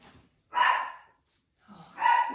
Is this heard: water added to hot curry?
no